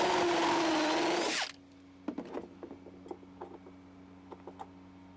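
Power drill driving a screw into a PVC piece, a close, loud buzzing whir for about a second and a half, then stopping, followed by faint scattered clicks and taps.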